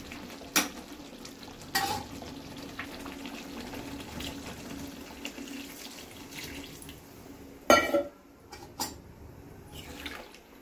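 Pointed gourd (potol) fries in a pan as a utensil stirs it, giving a steady soft sizzle with a few sharp scraping knocks against the pan, close and without talk.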